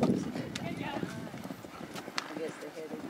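Horse hooves clip-clop at a steady walking pace, moderately near, mixed with people talking over radios and calling out.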